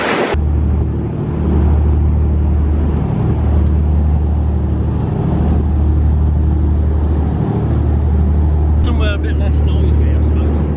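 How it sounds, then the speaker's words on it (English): Boat engines drone at a steady, loud, low pitch near the island of Gibraltar, with voices talking over the rumble. "it's probably going to be over the engines here"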